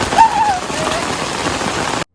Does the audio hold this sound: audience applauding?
no